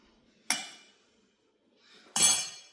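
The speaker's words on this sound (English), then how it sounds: "Just giving it a stir to speed up the cooling down process." Hot preserves are stirred in a glass jar, and the spoon strikes the glass twice, giving two bright, ringing clinks about a second and a half apart against near silence.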